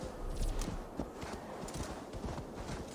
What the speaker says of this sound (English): Nothing like getting a free horse.